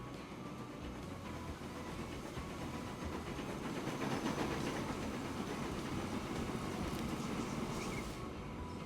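A train runs in the Transport Fever 2 video game, a steady, faint rolling rumble with a soft rhythmic rail clatter and hiss that keeps going without a break and with no talk.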